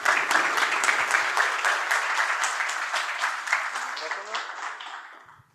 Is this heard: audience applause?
yes